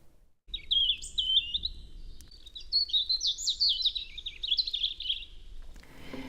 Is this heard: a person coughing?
no